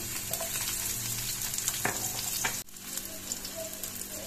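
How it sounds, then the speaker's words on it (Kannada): Onions frying in oil in a pan for a hotel-style veg kurma, a steady close sizzle with a few stirring scrapes, continuing alone without talk. "ಇದಕ್ಕೆ ನಾನು ಮೊದಲಿಗೆ ಸ್ವಲ್ಪ ಈರುಳ್ಳಿ ಹಾಕ್ತಾ ಇದ್ದೇನೆ"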